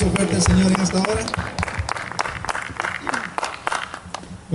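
A church congregation claps loudly together in a fast, uneven burst that gradually thins out, with voices and a preacher speaking over the applause.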